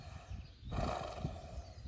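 A thoroughbred horse in side-passing training, with a short snort or whinny-like burst and soft hoof movement, fairly close and moderately loud, with no talking.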